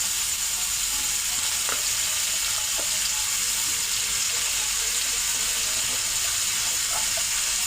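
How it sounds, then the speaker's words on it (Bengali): Potatoes frying in hot oil for homemade chowmein, a dense, continuous sizzle that stays loud and even throughout, with a few faint clicks of a utensil and no speech. "তেলটা গরম হয়ে গেছে। এবার আলু দিয়ে দেবো। আলুটাও একটু ভেজে নেব।"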